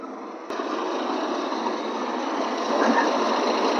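A Massey Ferguson 241 tractor idles at the Moga tractor market, its engine settling into a steady, even diesel drone that steps up slightly in level just after it begins and holds close and constant.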